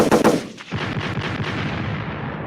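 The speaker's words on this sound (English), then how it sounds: "Gunshots, hold up." A gunshot sound effect cracks out as a couple of sharp, loud bursts right at the start, followed by a rumbling, echoing tail that fades slowly.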